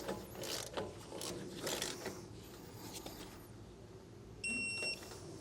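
Ratchet wrench tightening bolts in a star pattern on an electric trailer brake backing plate, a quiet steady run of small clicking and mechanical rattles with a brief beeping near the end.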